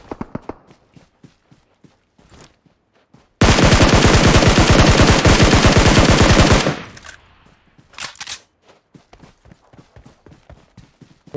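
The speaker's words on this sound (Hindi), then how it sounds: "बैक से फायर है" Loud, sustained burst of automatic gunfire in a first-person shooter, lasting about three seconds, followed by scattered single shots and footstep-like taps before and after.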